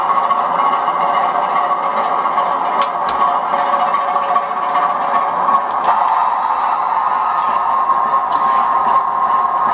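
A model railway locomotive's sound module runs steadily on a small layout, producing a continuous mid-range hum and rumble with faint clicking. The sound stays even and close throughout, and nobody speaks.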